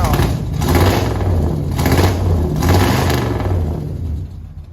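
An International truck V8, running cold and missing on a cylinder, revs up loudly and close by in repeated throaty surges with a deep low rumble throughout, with no talk over it.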